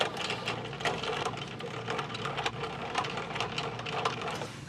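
A trailer tongue jack being cranked down gives a steady, fairly quiet ratcheting whir with faint regular clicks throughout, with no talk over it.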